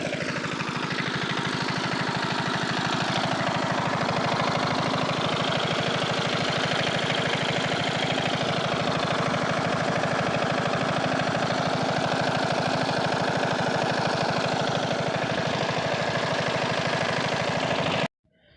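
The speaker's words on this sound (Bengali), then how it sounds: "সো গাইস, মেশিন বসিয়ে মেশিন স্টার্ট করে দিয়েছি।" A machine engine runs steadily at a fishery pond, loud and close with a constant droning, knocking hum for nearly the whole stretch before cutting off abruptly at the end.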